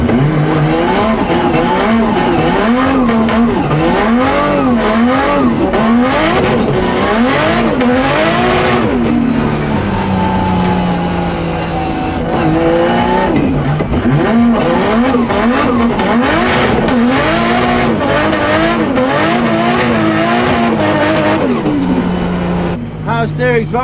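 Toyota MK2 with a 1.5JZ engine and sequential gearbox driving on a track, engine pitch rising and falling through repeated gear changes, loud and close, with people talking over it throughout.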